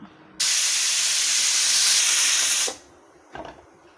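A pressure cooker cooking chicken biryani lets out a single loud, sustained hissing whistle of venting steam lasting about two seconds, then cuts off, followed by a brief faint clatter.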